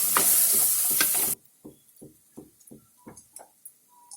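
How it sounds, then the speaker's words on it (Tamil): Masala stirred and sautéed in a clay pot for sardine curry gives a series of soft, evenly spaced scraping taps, close and quiet, after a loud opening burst of hiss. "இது நல்லா பச்சை வாசம் போகிற அளவுக்கு நல்லா கிண்டிக்கணும்."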